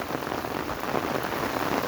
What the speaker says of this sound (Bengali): দেখুন বৃষ্টি, প্রচুর বৃষ্টি হইতেছে।